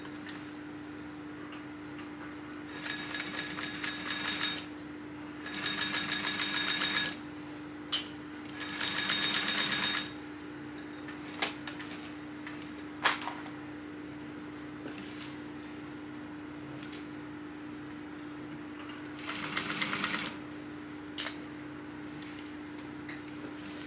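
Sewing machine stitching around the edge of a tote bag at a 3/8 inch seam, running in several short bursts and longer runs with pauses between, over a steady low hum in a quiet room.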